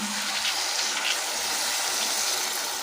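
A continuous rush of water pouring steadily into a pan of frying potatoes and masala, a gushing, splashy hiss.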